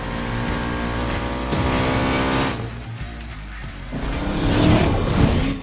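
Twin-turbo V8 engine of a BMW race car in Need for Speed Payback, droning loudly with steady harmonic tone, shifting pitch midway and surging again near the end with some tire noise, with no talking.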